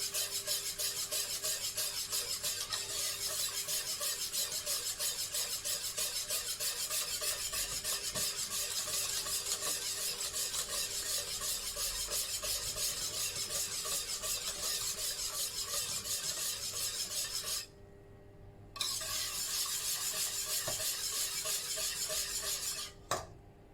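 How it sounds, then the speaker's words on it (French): Semolina stirred steadily in a pot of boiling water, a continuous close scraping and rasping of utensil against the pot with a simmering hiss, briefly pausing near the end before resuming. "On va tourner la semoule là."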